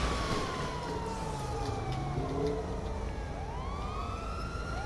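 A police car siren wails in Grand Theft Auto 5, its rising and falling tone sweeping over a steady rumble of traffic and engine noise, fairly loud and continuous.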